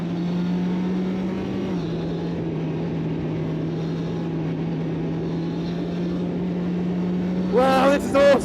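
Onboard a GB4 race car with a 6-speed SADEV paddle-shift gearbox at Donington Park GP, the engine holds a steady, even drone for several seconds, then a short, sharp rising rev bursts out at the very end.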